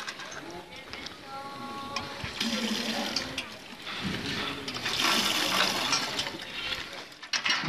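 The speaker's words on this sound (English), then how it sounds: "I'm filling up on water. An aid organization donated this water pump." A donated water pump in war-torn Eastern Ghouta fills containers, with gushing, splashing water that swells louder toward the end, and a brief mechanical whine near the start.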